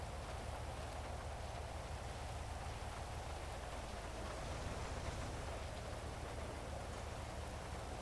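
Steady rain falls in a GTA 5 roleplay game scene, a dense even hiss that holds at a constant level with no speech over it.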